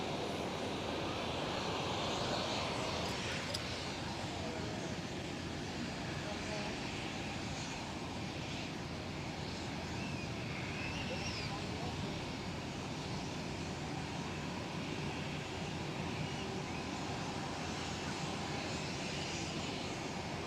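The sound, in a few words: KLM Boeing 777-200 lining up on runway 24 at Schiphol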